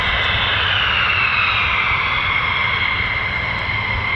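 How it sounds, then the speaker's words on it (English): Loud, steady roar of a US Air Force F-15 or F-35 fighter jet's engines at RAF Lakenheath, a continuous close rumble with a high whining tone sliding gradually across the span, no talk. "And the engines are powerful."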